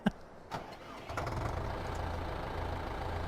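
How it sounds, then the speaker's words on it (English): A tractor engine in a farming video game: a short click, then the engine cranks and catches, settling into a steady, low, even idle that runs alone to the end. "We'll jump in the tractor."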